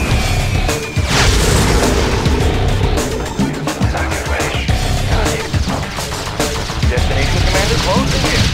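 Explosions from bombing runs in the Red Alert 2 strategy game, a loud continuous barrage of booms and crashes layered with battle noise, with a radio-style unit voice speaking over it.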